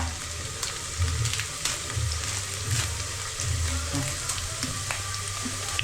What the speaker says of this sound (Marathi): आम्ही का कांदा परतवून घेतो कांदा टाकला हा तेजपत्ता